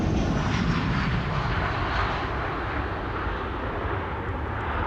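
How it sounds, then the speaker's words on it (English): A KLM Boeing 737 touching down at Amsterdam Schiphol Airport, a loud, continuous jet engine roar that holds steady and eases off slightly as the airliner lands. "Another KLM 737 touching down here."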